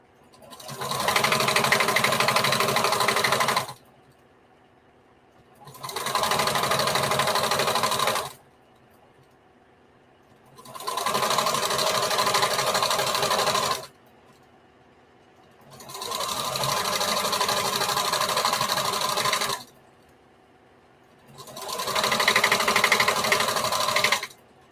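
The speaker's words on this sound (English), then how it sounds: "Do not back stitch. Just start sewing." Sewing machine stitching bandana fabric for a patchwork T-shirt dress, running in five steady whirring bursts of a few seconds each, separated by short pauses, close and loud with no talking.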